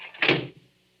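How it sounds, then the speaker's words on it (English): A door shuts in a 1943 suspense radio drama about an antique dealer, a single short thud with a brief scrape, close and fairly loud, then fading into near silence. "Close the door, quick."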